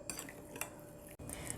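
Chicken being stirred and mixed in a cooking pot, with steady close scraping and clinking of a utensil against the pot, a few sharper knocks, and a brief pause near the end.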